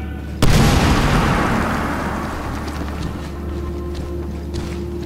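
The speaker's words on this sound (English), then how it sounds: "Grenade, get down!" A grenade explodes in the war shooter Medal of Honor Warfighter with one sudden loud close blast, followed by a long rumbling decay and lingering low noise.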